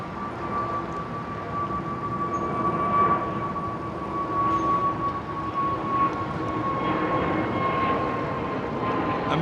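A China Airlines airliner at Heathrow makes a continuous, moderately distant engine roar with a steady whining tone running through it, with no talking.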